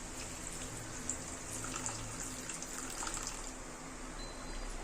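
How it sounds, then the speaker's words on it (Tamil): Steady running tamarind water being poured into a pan splashes continuously, a close, even pouring and trickling sound with no speech. "இந்த புளி தண்ணியை மட்டும் நம்ம சேர்த்துக்க போகிறோம்"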